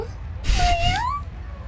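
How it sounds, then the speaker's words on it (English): A single drawn-out cat meow rises and falls over background noise from an anime episode, heard briefly and fairly loud. "That's a very cute cat."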